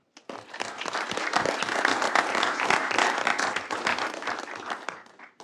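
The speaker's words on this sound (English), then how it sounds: "So can we give a round of applause to our graduates?" A school board meeting audience gives graduates a dense burst of clapping that swells quickly, holds steady for several seconds, then tapers off toward the end.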